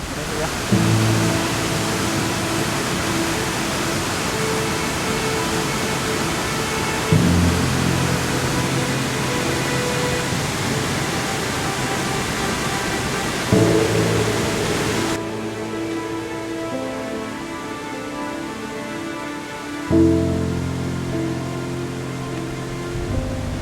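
A steady, loud rushing roar of a waterfall in a box canyon fills the whole clip, with faint tonal hums shifting underneath.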